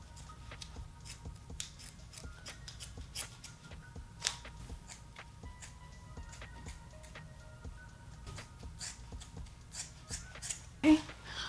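Scissors snip steadily through protective style braids being taken out, a long run of small, close, quiet cuts in an irregular rhythm.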